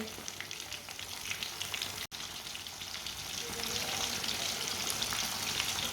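Fish fries in a pan Punjabi style, giving a steady close sizzle with fine crackles and pops, one brief click early on, and the frying growing slightly louder toward the end.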